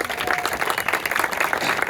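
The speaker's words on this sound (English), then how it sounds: "Cy, everybody give a round of applause for Cy." Outdoor audience at a groundbreaking ceremony for a sports park clapping in a brief, moderately loud burst of applause.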